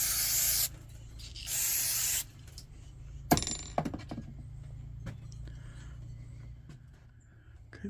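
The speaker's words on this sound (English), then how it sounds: "Wipe a little bit of that soot off there" A cloth rubs soot off a Coleman Peak 1 222B camping stove in two long, hissing strokes, followed by a few sharp metallic knocks and clunks as the stove is handled nearby.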